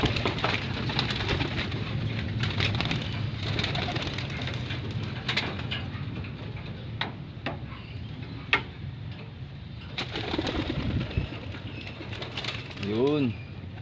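Pigeons in a loft give soft repeated cooing amid shuffling, ticking and pecking noises, nearby and fairly faint over a steady background, with a clear rolling coo near the end.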